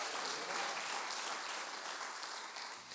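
Church congregation applauding during a sermon, a thick, continuous wash of many hands clapping at close range, steady throughout with only a slight easing near the end.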